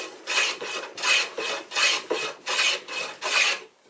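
A rasp files a scrap-wood edge into a bevel in six even rhythmic strokes, close and raspy, each stroke a separate pass with short gaps between.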